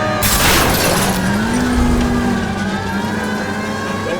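A car engine drones steadily while driving in L.A. Noire, with a loud crash or skid near the start and a rising engine tone under continuous road noise.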